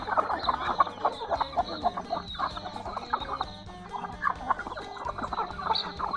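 Village chickens cluck and chatter continuously in a busy flock, several birds overlapping at moderate volume with no voices.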